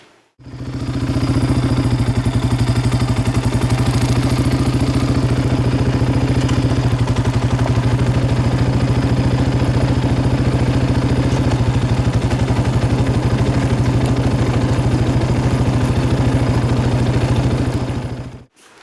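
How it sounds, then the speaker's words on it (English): A Yamaha Raptor 700R ATV runs steadily, a loud close engine drone with a constant low hum and fine rattling texture. It holds its level for most of the span and fades in and out at the ends. "That video there was just taking off from an idle, shifting it into third gear"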